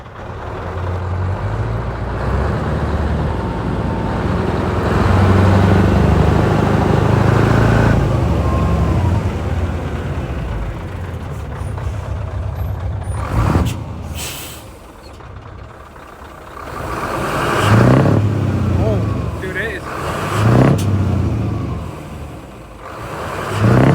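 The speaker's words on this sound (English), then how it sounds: "Time to hear that exhaust pipe roar." A Scania semi truck hauling an American trailer roars loudly as it drives off, its engine and exhaust swelling and easing through gear changes, with a hiss of air brakes now and then. No one speaks.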